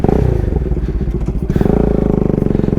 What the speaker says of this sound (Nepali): Okay, that was a perfect example of panic braking.